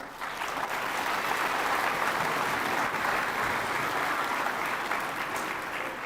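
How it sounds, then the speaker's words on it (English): A crowd at a Founder's Day event applauds children's performers steadily for several seconds, a dense wash of clapping at moderate distance with no talk over it. "Let's give them another round of applause."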